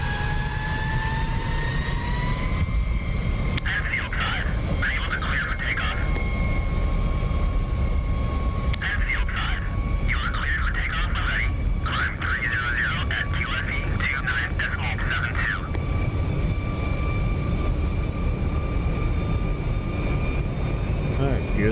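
F-22 Raptor jet engines in the DCS flight game roar steadily through a takeoff, with a constant loud rumble and high whine throughout and bursts of a warbling cockpit tone in the middle.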